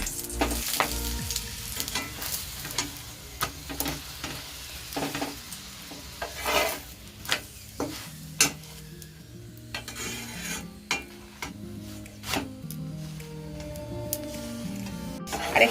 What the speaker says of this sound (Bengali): অল্প করে তেল দিয়ে কিন্তু আমি ভাজবো